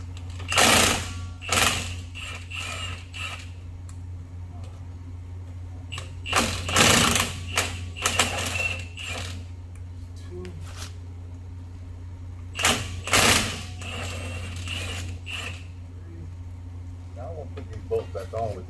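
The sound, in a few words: impact wrench removing drive shaft screws on 79 Cadillac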